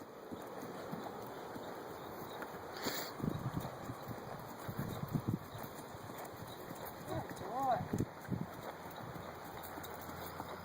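A ridden horse moves along with soft, irregular hoof clip-clops on the ground while people talk over the sound.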